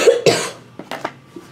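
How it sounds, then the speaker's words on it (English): A close, loud cough bursts out twice in quick succession, followed by a few softer throat sounds and breaths. "Cough."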